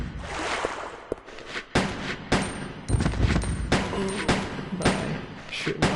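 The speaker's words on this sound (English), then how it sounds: "By shooting off these handgun rounds" Handgun fire in Resident Evil Code: Veronica X, a series of sharp, loud shots spaced irregularly across the stretch, each with a brief echoing tail.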